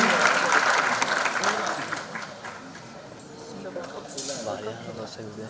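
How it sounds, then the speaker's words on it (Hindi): An audience at a live music show applauds for a performer, a full burst of clapping that fades gradually and then swells again, with voices and a speaker talking over the crowd. "ताशी के लिए एक बार और जोरदार ताली।"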